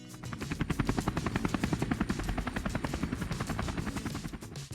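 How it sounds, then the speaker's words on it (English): A police helicopter, in a children's cartoon about vehicles, gives a loud, steady rapid rotor chop that thumps rhythmically through the whole stretch, alone and close. "It's a police helicopter."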